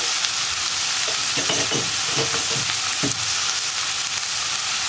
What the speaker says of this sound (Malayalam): ഇതിലേക്ക് നമ്മൾ കഴുകി വൃത്തിയാക്കി വെച്ചിരിക്കുന്ന ക്യാബേജ് ചേർത്ത് കൊടുക്കുക